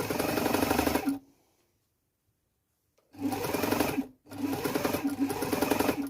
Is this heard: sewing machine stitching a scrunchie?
yes